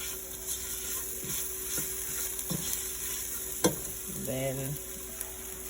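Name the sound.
sautéing onions and peppercorn for Caribbean rice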